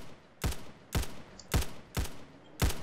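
Gunfire in a video game: five loud, sharp shots spaced evenly about half a second apart, each ringing briefly before the next, with no talk over them.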